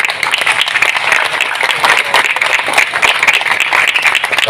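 An audience at a religious sermon claps steadily together, a dense, even round of hand clapping that holds at the same level for the whole stretch with no talk.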